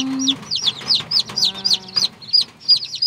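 High, rapid peeping of a newly hatched chick repeats steadily throughout, with a few soft low clucks from a brooding hen underneath, close by.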